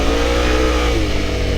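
A Suzuki GSX-8S parallel-twin motorcycle engine revs hard off-road, a loud, steady, close-up drone with a falling pitch sweep partway through.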